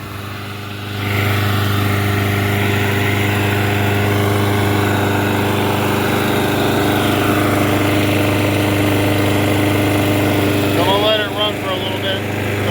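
A Toro Recycler lawn mower repowered with a Quantum engine runs while blowing smoke. It makes a loud, steady close-up drone after starting, and a voice is briefly heard near the end.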